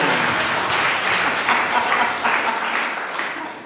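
Church congregation applauding during a healing testimony service, a dense, steady wash of many hands clapping that fills the room and fades slightly at the end.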